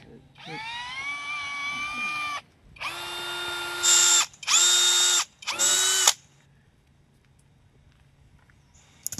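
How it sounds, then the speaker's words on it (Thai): A power drill bores into the trunk of a durian tree, whining in four distinct bursts of about one to two seconds each, close and loud, with brief pauses between and quiet afterward. "ใช้สว่านเจาะเข้าไปนะคะ"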